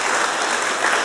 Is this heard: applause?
yes